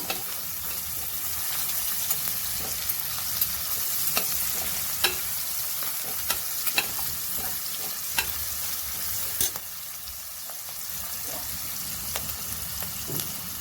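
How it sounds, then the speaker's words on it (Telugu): Onions fry with salt in a pan for a village-style chicken curry, a steady loud sizzle with occasional crackles and stirring taps throughout. "కొంచెం సాల్ట్ వేసుకుంటున్నాను ఉల్లిపాయలు మెత్తబెట్టడానికి."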